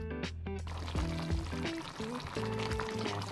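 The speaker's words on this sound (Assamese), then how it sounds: "অকণমান পানী ব্যৱহাৰ কৰিম এতিয়া ইয়াতে গৰম পানী" Hot water is poured into a simmering Assamese fish curry made with singhi fish and coriander, giving a steady close liquid pour over a bubbling pan, alone without voices.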